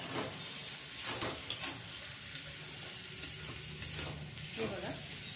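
Egg biryani mixture fries in a pan while a spoon stirs it, giving a steady close sizzle with scraping strokes and soft clinks throughout, and no voices.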